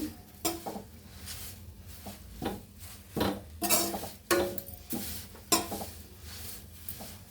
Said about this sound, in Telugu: కరేపాకు ఇట్లా వేగిన దాకా అండి తేమ లేకుండా వేగితే బాగుంటుంది